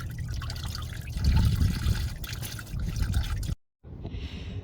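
Engine coolant drains from a Saturn Sky, trickling and dripping steadily at close range with a rumbling, watery wash that swells midway, then cuts to near silence briefly before a thinner trickle resumes.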